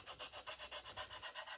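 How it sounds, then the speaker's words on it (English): Metal file worked over the wing of a 1/24 scale plastic P-51D Mustang model, about a dozen quick even rasping strokes in a steady rhythm, close and faint with no talking. "the reason I'm using a file instead of just sanding it is because it's quicker"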